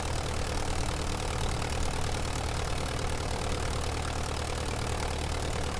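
A Curtiss JN-4 Jenny biplane's engine in Microsoft Flight Simulator, a steady, unbroken droning hum with a rough, buzzing texture and an even volume throughout.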